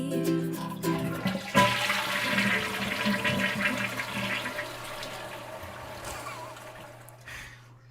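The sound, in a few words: toilet flushing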